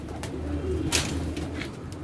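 Pigeons kept by a hobbyist coo softly in low, rolling murmurs nearby, with a brief flutter or rustle partway through and no talking.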